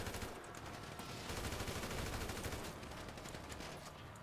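Dense, continuous automatic gunfire from the GTA V video game, with rapid overlapping bursts filling the whole stretch at steady intensity, muffled and moderately distant in a chaotic shootout.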